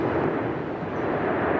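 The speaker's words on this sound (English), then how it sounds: "Driven by gas explosions, pyroclastic rocks are hurled up to 300 meters in the air." Deep continuous roar of the La Palma volcanic eruption as gas explosions hurl pyroclastic rock high into the air, a loud, dense, unbroken rumble with no pauses and no voices.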